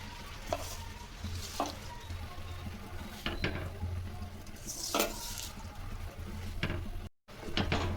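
Fresh drumstick leaves tossed into a hot pan with a little water and stirred, giving a steady sizzle with repeated scraping stir strokes and soft clatter of the utensil against the pan, close and moderately loud, with no voices.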